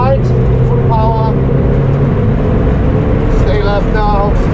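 A Volkswagen Golf GTI engine roars steadily at full power on the Nürburgring with a continuous loud drone, while a person speaks over it.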